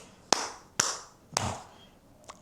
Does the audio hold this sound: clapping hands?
yes